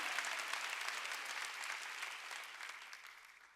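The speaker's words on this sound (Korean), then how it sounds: "박수 치라 이기야." A congregation at a Korean church's Wednesday worship service applauds in a continuous, fairly faint patter of many hands that slowly tapers off, with no talking over it.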